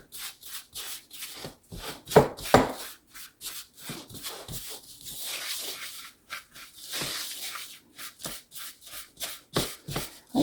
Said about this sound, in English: Let me mix that up.